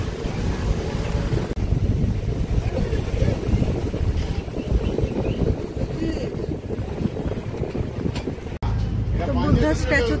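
A boat cruising on water near a Buddha statue in Hyderabad, a constant loud engine rumble with wind buffeting, and people talking over it.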